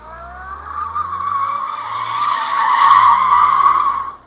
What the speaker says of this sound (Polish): Tak, tak się kręci bączki w wersji front wheel drive